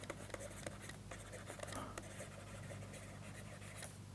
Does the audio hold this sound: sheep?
no